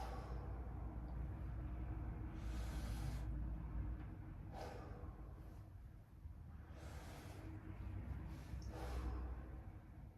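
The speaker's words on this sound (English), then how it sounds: "if you take a deep breath, let it out" A patient breathes deeply during a lung check with a stethoscope, making slow, soft airy inhales and exhales in a steady cycle over a constant low background hum, without speech.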